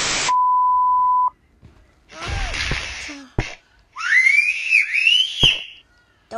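The Talking Tom cat character whistles cartoonishly in a rising and falling sliding melody, mixed with electronic beeps, a steady tone and brief game sound effects from the Talking Tom game.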